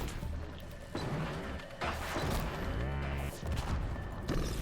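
Gunfire and impacts from a machine attacking the player in Horizon Zero Dawn, a dense run of loud cracks, thuds and crashes over about four and a half seconds with game ambience underneath.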